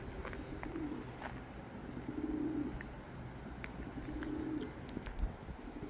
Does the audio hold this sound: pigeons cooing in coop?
yes